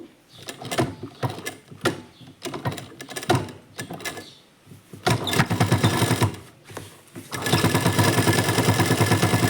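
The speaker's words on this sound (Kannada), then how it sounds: "ಇವಾಗ ಅದಕ್ಕೇ ಮೇಲ್ಗಡೆನೇ ಇನ್ನೊಂದು ಸ್ಟಿಚ್ನ ಹಾಕೋತಾ ಇದ್ದೀನಿ" A sewing machine stitches churidar fabric, starting in short, separate bursts and then settling into a long, loud, steady whirring run near the end.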